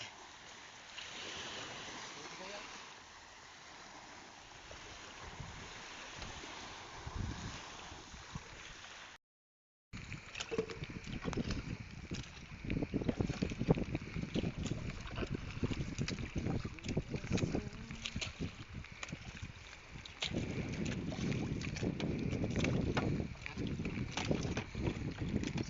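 Broadband rumble of a fishing boat on open water in the West Philippine Sea with wind buffeting the microphone, a brief dropout partway, then louder churning engine and water noise.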